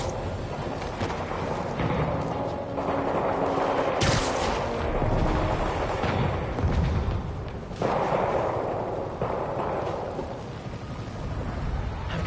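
Sustained battle noise of gunfire and booming blasts in Marvel's Spider-Man, as an armored personnel carrier comes under fire north of Houston, dense and continuous with a sharp burst near the middle.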